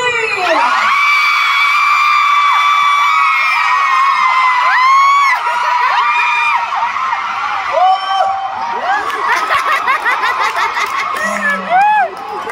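Filipino fans at a fan meeting in Manila shriek, scream and cheer together in a loud, sustained crowd roar, with high excited whoops rising and falling throughout.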